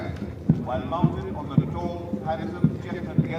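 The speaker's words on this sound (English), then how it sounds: "So we see 5 horsemen marching in front of the dais." Hooves of five horses carrying mounted cadets as they march past the dais at a parade, regular clip-clop beats roughly every half second, moderately close, under an announcer's commentary.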